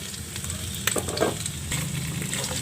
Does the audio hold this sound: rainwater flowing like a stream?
no